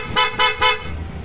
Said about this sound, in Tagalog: Tapos busina, PIAA.